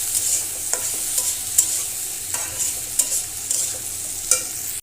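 Potatoes and sliced vegetables with onion fry in a pan, a steady sizzle broken by repeated scraping stirs of the spatula, close up and with no talking.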